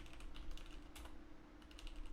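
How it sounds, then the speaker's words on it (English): Quick, irregular typing on a clacky computer keyboard, close and crisp, a cluster of keystrokes with short pauses, no speech. "how's my keyboard sounding? Is it beautiful? Is it clacky?"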